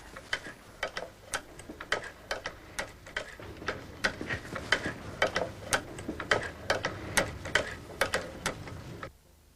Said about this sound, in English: This machine's actually a cobbler's machine used for sewing leather.